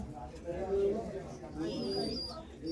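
Soft, low pigeon coos repeat among other birds at a pigeon shop in Khulna's Boro Bazar, with people talking over them in the foreground.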